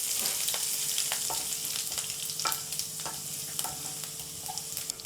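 Finely chopped garlic and curry leaves frying in oil in a pan for Mumbai vada pav, a steady loud sizzle with repeated spatula scrapes and taps, close up and without any talk.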